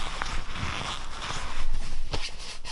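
Crisp rustling and crinkling of a stiff Vaude Manukau men's jacket being handled up close, with a few sharper rubs and scrapes, no talking.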